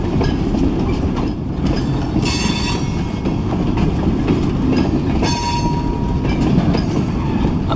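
A long freight train rolls past close by, loud and continuous, with rumbling wagons, clattering wheels and brief squeals of steel on rail.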